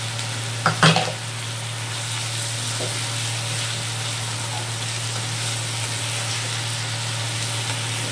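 Ginger and garlic paste sizzles in hot oil with a continuous close crackle, broken early on by a brief clatter of stirring, while a steady low hum runs underneath.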